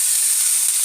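A pot of water hits a hot pan of green mango sauce, producing a loud, steady, close sizzling hiss with no voice over it.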